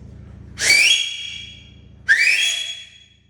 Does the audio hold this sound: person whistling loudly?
yes